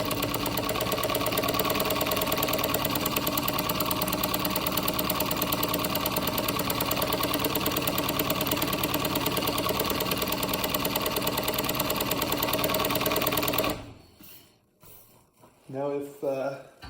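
A motor-driven chain stitch sewing machine runs at a steady fast whirring clatter for about fourteen seconds, then stops, and a voice talks briefly afterward.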